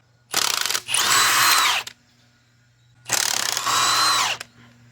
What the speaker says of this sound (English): I'm gonna try to remove the 14mm bolts here